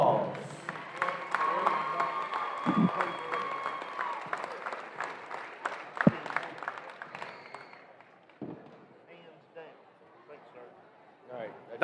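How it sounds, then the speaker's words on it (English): Crowd applause in a high school gym at a Washington County vs Marion County basketball game, a steady wash of clapping with a few cheers and sharp claps, while an announcer talks over it through the PA. "let's give them all one big round of applause"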